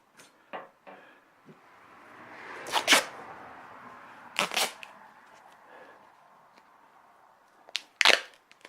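Tape being pulled and wrapped around a well pump pipe at a pitless adapter, heard as a few sharp ripping bursts with softer crinkling and handling noises between them, close up, with no talking.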